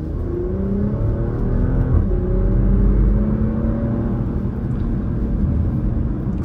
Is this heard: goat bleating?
no